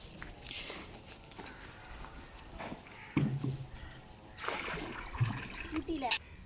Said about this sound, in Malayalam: അപ്പോൾ വെള്ളം അതിനനുസരിച്ച് ചേർത്തിട്ട് നേർപ്പിച്ച് ഒഴിച്ചു കൊടുക്കുക